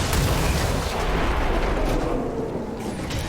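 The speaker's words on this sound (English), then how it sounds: "This is going to be a big explosion." A big explosion in the video game XCOM 2: a loud, dense rumbling blast that fills the opening and decays slowly into a lingering low roar, with no talk over it.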